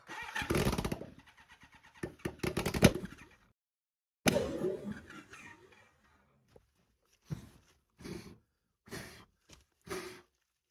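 A motorcycle with leaking carbs is cranked with brake cleaner sprayed into the inlets. Loud bursts of cranking and sputtering come first, followed by silence and then a string of short, separate bursts that fail to settle into a running idle.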